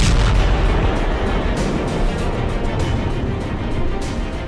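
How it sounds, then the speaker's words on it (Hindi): Rockets and heavy bombardment in a Pakistan Air Force strike on TTP positions in Kabul, Afghanistan: a loud, continuous roar of rumbling blasts with repeated sharper booms, heard alone without voices. "कई रॉकेट दागे गए और भारी बमबारी हुई"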